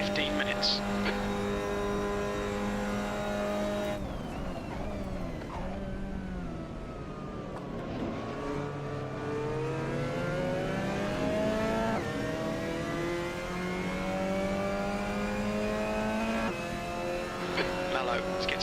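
An older Lamborghini racing around COTA in a driving video game, its engine rising and falling through gear changes as it accelerates and brakes. The revving tone sweeps up and down steadily and stays loud from start to finish.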